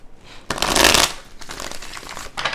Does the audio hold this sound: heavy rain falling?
no